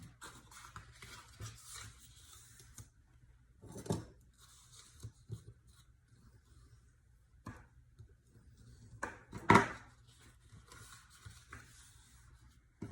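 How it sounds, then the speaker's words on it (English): Paper is folded and burnished by hand to form a gift box: quiet, scattered crinkles and scraping rubs with long near-silent gaps between them. "So let's fold and burnish everything."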